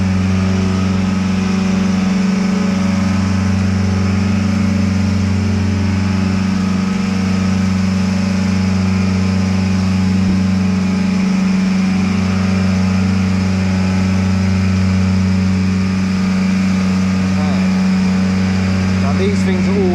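Loud, steady engine drone of an HGV lorry heard from inside the cab, a constant low rumble with a slight rise in pitch partway through as it speeds up, running throughout.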